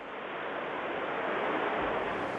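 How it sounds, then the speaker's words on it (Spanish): Ocean waves from the 2004 Indonesia tsunami crashing against a hotel complex, a loud, continuous roar of surf and rushing water with wind buffeting the microphone. "otro turista británico grababa las mismas olas rompiendo contra su complejo hotelero"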